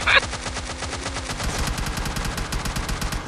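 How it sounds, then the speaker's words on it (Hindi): Rapid automatic gunfire in the PUBG Mobile Lite video game, a dense continuous burst of loud shots with a sharp crack at the start. "देखो जमीन में गोलियां मार रहा है भाई"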